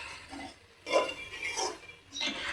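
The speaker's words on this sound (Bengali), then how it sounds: "ঘি দিয়ে একটু নাড়াচাড়া করে দেব" A spoon stirs carrot laddu mixture with ghee in a pan, with soft scraping and clinking in a few separate bursts and quiet gaps between them.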